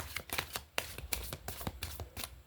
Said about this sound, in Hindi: एक और कार्ड हम इस डेक से लेने वाले हैं।